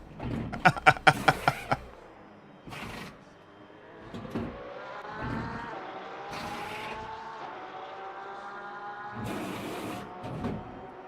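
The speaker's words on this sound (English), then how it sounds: "I hear a Porsche." Race car engines in Assetto Corsa Competizione at Spa roar past, with a GT3 Lamborghini Huracan EVO2 nearby: several sharp rapid bursts early on, then engine tones rising and falling as cars pass, with brief whooshes throughout.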